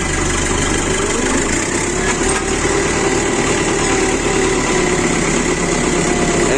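A New Holland 7056 tractor engine idles steadily up close, a loud, even diesel rumble with a constant mechanical hum and vibration and no voices throughout.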